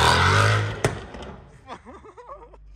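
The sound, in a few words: Mercedes CL 63 AMG engine revving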